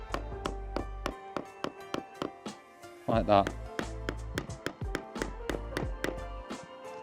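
A timber piece knocked down onto limestone patio blocks to level them. Sharp, regular close-up taps run throughout, with a denser scraping burst midway, under someone talking.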